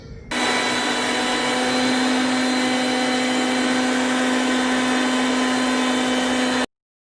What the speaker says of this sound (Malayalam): ഇനി നമുക്ക് ഈ മസാല നല്ല പേസ്റ്റ് പരുവത്തിൽ അരച്ചെടുക്കാം.